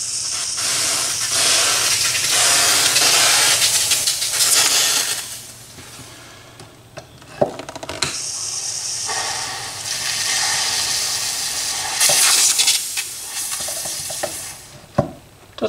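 Steam hissing loudly into the body of a 1959 Gibson ES-125T guitar during restoration, in long close bursts separated by short pauses and a few clicks.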